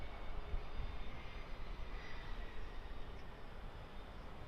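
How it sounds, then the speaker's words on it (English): A small private jet taxiing out at Birmingham Airport, a steady, moderately distant engine roar and whine that holds at an even level throughout with no voices. "Little private jet taxiing out from what I can hear."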